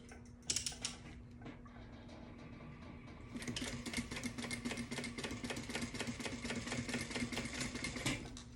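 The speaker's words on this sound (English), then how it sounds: "And then we're going to top stitch on each side." Sewing machine top stitching a seam on a convertible tote, starting after a brief handling clatter with a fast, steady mechanical chatter that runs close and fairly quiet for several seconds.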